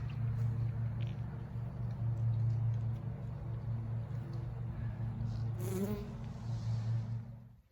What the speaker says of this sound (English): Got a bee here.